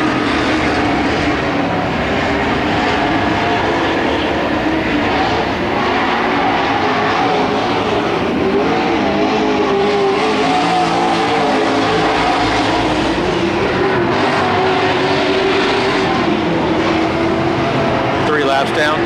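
Super Stock race cars circle Petaluma Speedway in a 25-lap main event, a continuous, loud roar of engines from several cars at once holding steady for the whole stretch under a race announcer's commentary.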